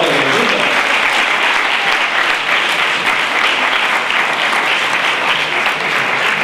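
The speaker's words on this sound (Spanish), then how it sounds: "Un fuerte aplauso, ¿no?" Strong, sustained applause from a conference audience at a talk on alien abductions and implants, loud and steady throughout without a break.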